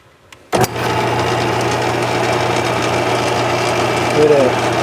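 A Briggs OHV engine starts with a sharp burst and then runs smoothly at a loud, steady, even idle close by.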